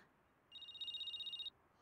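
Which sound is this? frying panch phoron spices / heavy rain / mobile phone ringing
mobile phone ringing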